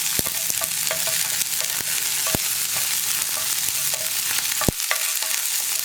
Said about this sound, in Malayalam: പിന്നെ നമുക്ക് കുറച്ച് കറിവേപ്പിലയും ചേർക്കാം.